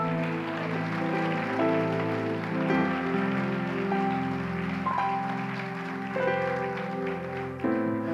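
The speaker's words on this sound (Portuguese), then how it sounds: "Aplauda o Senhor." A church congregation applauds the Lord with a dense, continuous wash of clapping, heard under sustained organ or keyboard chords that carry through the whole stretch.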